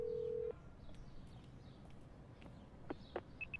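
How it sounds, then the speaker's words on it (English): Someone dials a telephone number in a video game, producing a steady dial tone followed by a few short touch-tone beeps against soft background noise. "I dial Mayu's number."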